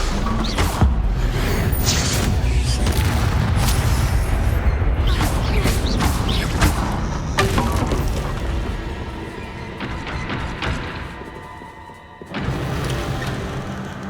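Loud, repeated spell blasts from Bombarda and Confringo in the Hogwarts Legacy video game, a run of overlapping booms and crashes that thin out into a quieter tail before one more burst near the end.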